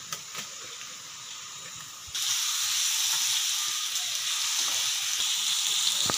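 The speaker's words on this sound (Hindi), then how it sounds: "गोश्त को करेंगे हम अच्छे से फ्राई।" Beef meat hits hot oil with ginger and garlic for beef biryani, and a quiet background sizzle jumps into a loud, steady, close frying hiss that continues to the end.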